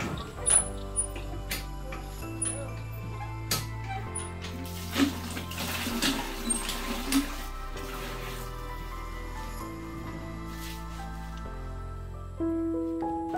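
A man bathes with a steady trickle of running water and intermittent splashes and knocks, heard up close, with occasional faint voices in the background.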